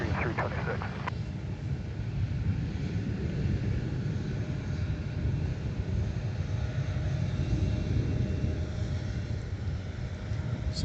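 Airliner taking off from a runway at MSP airport, a steady broad roar with rumble and wind noise that holds at even loudness throughout, with a brief voice at the start.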